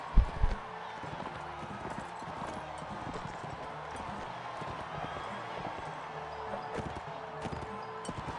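Horse hooves clip-clop steadily through a Mount and Blade battle, a continuous rhythmic patter at moderate distance with a louder thump near the start, under faint game noise.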